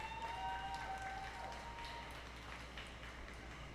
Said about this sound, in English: let's give another round of applause to our dance group that just completed